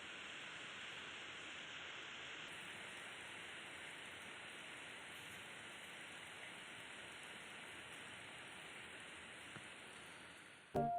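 Steady, dense rain pours down without a break, a constant hiss that swells slightly with a brief clatter at the very end.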